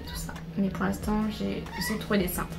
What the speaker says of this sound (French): désolée pour les miaulements, c'est mon chat